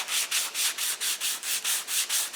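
Steady rhythmic rasping of a sanding block scrubbing back and forth over a wooden candle box, about ten even strokes, close and fairly loud.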